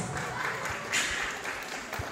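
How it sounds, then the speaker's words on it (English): Applause from an audience at an elementary school graduation and moving-up ceremony in a covered court, a steady wash of clapping that holds for about two seconds and ends abruptly. "A round of applause."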